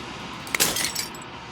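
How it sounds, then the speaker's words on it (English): Glass shattering in the video game Slay the Princess: a sharp crack followed by a brief, bright spray of tinkling fragments that trails off, fairly quiet and alone. "As the final fragment of glass shatters"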